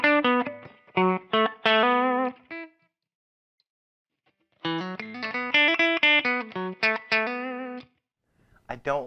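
Fender Player Series Jazzmaster electric guitar played through the bridge pickup with its humbucker split, strummed chords and single notes ringing alone in two bursts separated by a few seconds of silence, with a short phrase at the end.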